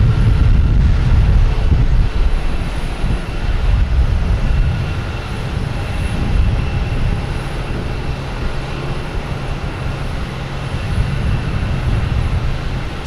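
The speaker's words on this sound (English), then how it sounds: "we have American Airlines because it's going to be lining up for runway 4 right" An American Airlines plane at Boston Logan Airport, lining up for runway 4 right, makes a loud, steady engine roar that fills the whole stretch with no talking.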